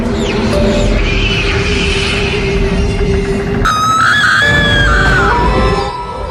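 Screams echo through the ruins of Malcha Mahal during a paranormal investigation: shrill, wavering cries over a constant loud rumbling background, with a sharper, sustained wail taking over partway through.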